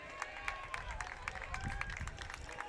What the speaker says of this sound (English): Got a good clapping from the crowd.